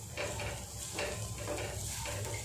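Salt being stirred into an ivy gourd leaf dish in a pan, with soft rhythmic scraping strokes over a faint, constant sizzle at close range.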